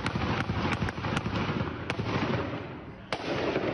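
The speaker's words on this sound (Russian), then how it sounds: "А это уже стрельба в столице Дагестана, Махачкале." Sharp cracks of gunfire in Makhachkala, Dagestan, a rapid irregular series of bangs over a dense rumbling background, one louder shot near the end.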